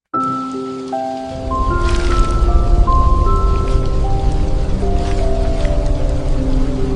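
Steady rain falls throughout, a constant wash of patter beneath sustained musical tones, with no talking.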